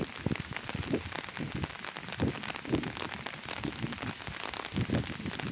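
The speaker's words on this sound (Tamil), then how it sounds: "மழை தான் பாருங்கள்" Heavy rain falls steadily in a village, a dense continuous hiss of drops on surfaces with scattered nearer splashes and patters, no voices.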